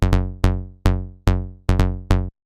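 Trance bass line in Ableton, processed with saturation and EQ, with a layered plucky top bass: rich harmonic notes in a pulsing rhythm, about six strikes that decay between hits, loud and close with no voice.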